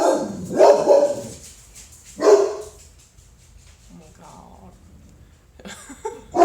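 A dog barks in loud bursts near the microphone, two strong barks early followed by another at the end, with a person's brief exclamation amid the barking.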